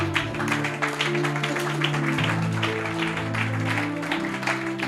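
A church congregation applauds and cheers for Jesus during a French-language Bible teaching service, steady dense clapping filling the room throughout with no pause.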